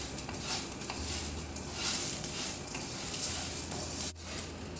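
Rice parching and being stirred in a hot pan until brown, giving a steady dry sizzle with continuous scraping and rustling strokes throughout, close and fairly loud with no talking.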